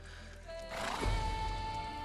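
A horse in the medieval survival game Medieval Dynasty gives a single short neigh that swells to a peak over a low, steady background hum.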